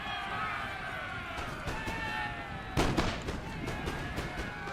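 Napoleon: Total War battle with artillery firing: scattered booms and cracks over a dense background of distant battle noise and music-like drone, including one louder nearby blast, with a voice talking faintly.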